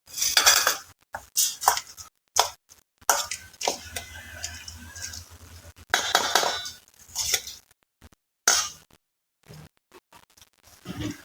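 A bowl of suvarna gedde (yam) kosambari salad with deep-fried yam and coriander leaves is tossed in bursts of clinking, scraping utensil-on-bowl noise, broken by short pauses.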